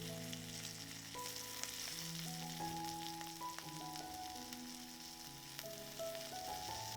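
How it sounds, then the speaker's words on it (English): Onion and pork sizzle in a skillet, a steady quiet crackle and hiss with occasional soft stirring scrapes, close and alone without talk. "the onion in the skillet, and I stir everything together well"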